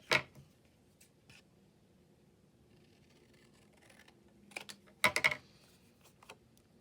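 Scissors snip through a patchwork fabric tag at close range, with one sharp cut at the start and a quick cluster of crisp snips later, separated by quiet handling sounds.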